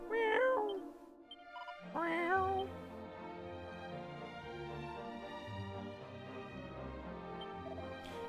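A cartoonish cat from Dragon Quest III HD-2D gives two clear meows, close and loud, the second about two seconds after the first, followed by a steady game music bed.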